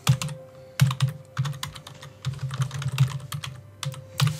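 A computer keyboard is typed on while entering a server name, with quick uneven clusters of close, crisp key clicks and short pauses, and no talk.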